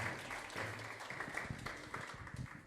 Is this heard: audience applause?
yes